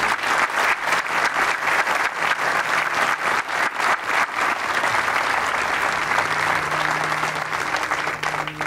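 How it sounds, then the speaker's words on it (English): An audience at a military ceremony for the 101st Combat Aviation Brigade applauds its soldiers with sustained, dense clapping from a large crowd, loud and steady, with a faint murmur of voices beneath. "please join me in a round of applause for these great soldiers"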